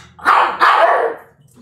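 Dog in the That's Not My Neighbor video game giving two quick, loud barks in close succession, standing alone with nothing else around them.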